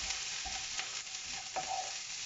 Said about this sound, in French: vous faites griller un petit peu vos oignons